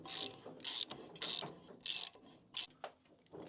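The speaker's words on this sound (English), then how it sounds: "I hear the mag clicking" Magneto on a 1936 Farmall F-20 tractor clicking and ratcheting in a series of irregular bursts, some bright and crisp, others duller, close up and fairly quiet with no talk.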